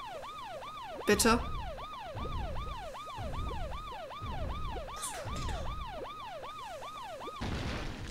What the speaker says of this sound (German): Kann einer die Sirene bitte abschalten?